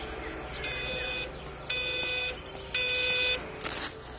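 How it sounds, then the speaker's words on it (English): A phone rings with an incoming call from Stephen in the video game Everybody's Gone to the Rapture, three evenly spaced electronic trill bursts ringing out clearly over a low ambient hum. "Phone call from Stephen."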